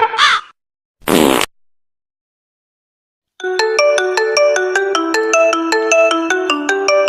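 After two short bursts of other noise and a pause, a mobile phone ringtone starts up and plays a loud, clear, repeating melodic tune on its own for several seconds.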